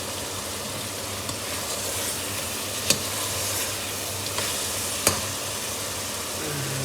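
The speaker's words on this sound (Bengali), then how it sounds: "আমি একটু হালকা তেলে ভাজছি" Frozen fish pieces frying in a little oil, a soft, even sizzle close by with two sharp clinks of a utensil against the pan.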